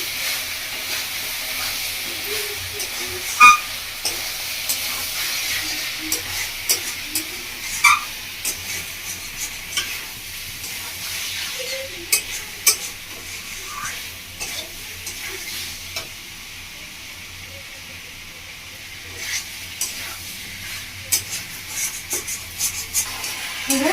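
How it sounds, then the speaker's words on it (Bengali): Ginger, garlic and green chili paste fry with chicken in a village-style kosha, a steady hissing sizzle with frequent scraping stirs against the pot, close and fairly loud. "আদা, রসুন, কাঁচা লঙ্কা দিয়ে আরো ধরে দিয়ে কষিয়ে নেব"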